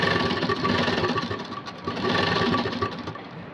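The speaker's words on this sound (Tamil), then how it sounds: "இந்த மாதிரி மடக்கி வச்சுட்டு அதோட எட்ஜில் தையல் போடுங்க." A sewing machine stitches along a folded fabric edge, running in a fast steady mechanical whir with one brief pause midway, heard up close and alone.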